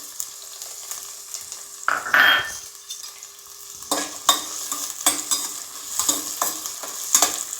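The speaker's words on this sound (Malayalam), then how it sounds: "നമുക്ക് അതിലേക്ക് അരിഞ്ഞു വെച്ചിരിക്കുന്ന കൊച്ചുള്ളി ഇട്ട് കൊടുക്കാം." Chopped small shallots drop into hot coconut oil and fry, a steady close sizzle broken by several loud stirring scrapes and clatters of a spoon in the pan.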